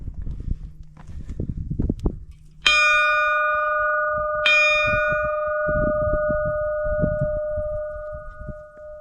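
A small chapel bell on the Monte Balanzone summit along the Triangolo Lariano ridge near Milan is struck twice, each clear metallic ring lingering and overlapping, with footsteps and outdoor movement around it.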